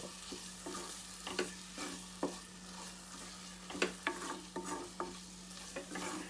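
Fresh green peas sizzle steadily in hot masala while a spoon stirs and scrapes the pan at a regular beat, close by and with no voices.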